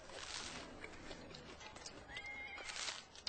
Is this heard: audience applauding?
no